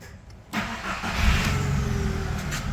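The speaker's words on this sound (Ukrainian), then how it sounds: "і заводимо автомобіль" A car's 1.6-litre BFQ/AVU engine cranks and catches at about half a second, then settles into a steady, close idle with no talking.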